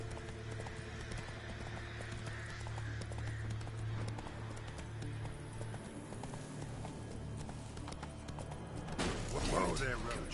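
Roach the horse galloping in The Witcher 3, a rapid rhythmic drumming of hooves under a low hum, fading near the end as a voice speaks over a brief burst of other noise.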